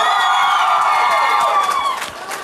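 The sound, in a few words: studio audience applause and cheering at karaoke TV show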